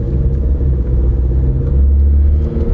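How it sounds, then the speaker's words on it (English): Interior of a car rolling down the road on Toyo all-terrain tires, with deep steady engine and exhaust rumble and tire drone, loud and continuous. "basically you hear the exhaust and the engine, the tires."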